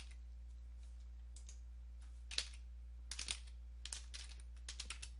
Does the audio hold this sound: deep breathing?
no